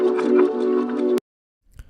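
A synth pad in Reason 8, thick with low-mid body, sustains as a warm, dense chord for just over a second before stopping abruptly, followed by a faint soft rustle.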